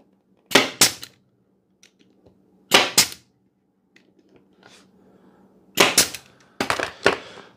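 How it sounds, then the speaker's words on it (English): A nail gun drives 1-inch brad nails into wood for a squirrel table, with sharp, loud pneumatic pops: a pair, then a single shot, then a quick cluster of several, with quiet gaps and no talking. "I'm using 1-inch brad nails, and then I'm just gonna go ahead and shoot."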